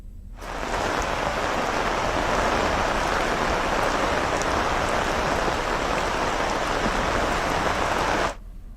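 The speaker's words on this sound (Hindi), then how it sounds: "काफी बारिश वहां पर हो रही है" Heavy rain pours down steadily at an outdoor vegetable market, a loud, dense hiss that starts abruptly and stops abruptly near the end, with no voices.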